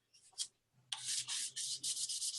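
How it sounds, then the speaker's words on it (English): Sandpaper rubs against a cast metal ring in quick, close scratchy strokes, a couple of short passes followed by a steady run of rapid back-and-forth sanding. "And then you go back in with your sanding paper just to smooth it all out."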